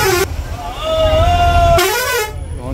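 A vehicle horn honks loudly and close in a long tonal blast, then sounds again in a shorter burst, with traffic rumble underneath.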